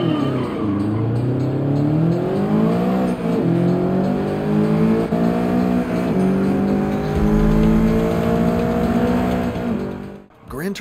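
Race cars in the video game Gran Turismo 7 rev and accelerate hard, their engine notes sweeping up and down through gear changes with squealing tires, loud and continuous before a brief drop near the end.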